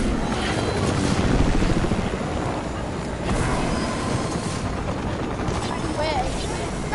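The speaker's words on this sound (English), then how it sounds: "stop destroying the helicopter" A helicopter in the Fortnite video game thrums with a dense, continuous rotor roar that holds loud and steady throughout, with no talk over it.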